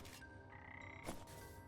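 Frogs croak in the video game Wytchwood, a few close, resonant croaks over a low ambient hum, with no talk.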